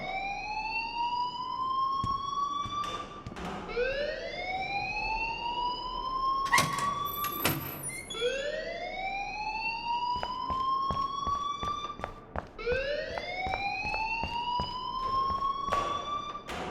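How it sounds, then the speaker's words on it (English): A school alarm in the video game Life Is Strange wails on and on, rising sweeps repeating every few seconds over a steady electronic tone. It is loud and continuous, with no talking over it. "please turn off that alarm since that's your job"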